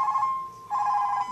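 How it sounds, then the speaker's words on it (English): A mobile phone rings with a steady electronic tone in two bursts separated by a short dip, fairly loud and close, with no talking. "my phone going off in every single video"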